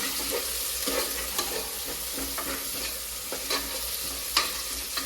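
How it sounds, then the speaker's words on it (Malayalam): Curry leaves dropped into softened onions frying in a pan, a loud continuous close sizzle with crackling spits and the occasional scrape of stirring. "നമുക്ക് ഇനി കറിവേപ്പില ഇട്ട് കൊടുക്കാം"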